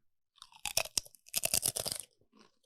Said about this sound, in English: really give me lean into the mic and give me a good crunch, Ahmad.